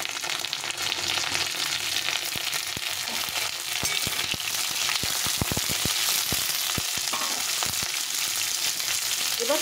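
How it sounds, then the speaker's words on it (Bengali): A pan of cauliflower and potato fries with a dense, loud crackle. A spatula stirs through it, adding a run of quick clacks and scrapes against the pan, close up with no speech. "প্রথমে ফুলকপিটা দিয়ে দিলাম, ফুলকপিটা একটু নাড়াচাড়া করে নেব।"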